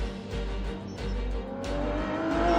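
A race car drives hard on a track, engine droning and rising in pitch as it accelerates, with brief drops between gear changes, loud and close from the cabin.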